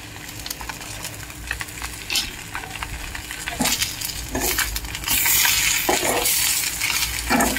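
Goat brain fry being mixed with salt and chili powder in a pan, with steady stirring scrapes and a soft background sizzle, growing louder and busier toward the end; no talking.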